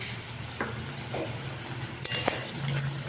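Capsicum and potatoes being stirred in a pan for aloo potoler korma, a soft low sizzle with a few scraping strokes and a sharp metallic clink of the spoon against the pan.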